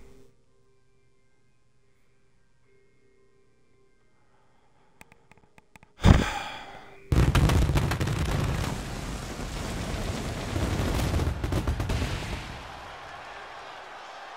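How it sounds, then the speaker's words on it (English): Fireworks in the wrestling video game WWE 2K22 burst in with a sudden loud boom after near silence, followed by a dense, roaring crackle of explosions and crowd-like noise that holds steady for several seconds. "Yeah, I'll watch the fireworks every time."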